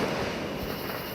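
Neighborhood fireworks set off by residents around Peachtree City, Georgia crackle and pop at a distance, a dense rumbling spread of bursts blending into steady outdoor noise.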